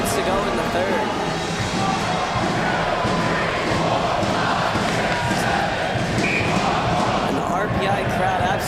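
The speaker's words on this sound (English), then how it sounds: "RPI crowd absolutely delighted, chanting out just how many goals there were tonight" A large hockey crowd at an RPI men's hockey game against Dartmouth roars and chants goal counts together in a loud, dense wash of voices with thuds and cheers, filling the arena continuously.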